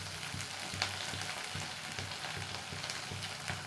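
Sliced onions fry in hot oil in a pan for a Tamil pepper kuzhambu, a steady soft sizzle with faint crackles and no voices.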